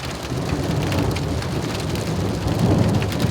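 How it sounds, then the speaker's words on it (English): Heavy rain pours down on soaked ground and surfaces, forming a loud, dense, continuous wash, with deep thunder rumbling underneath and no voices. "I think the thunder signals that it ain't over yet"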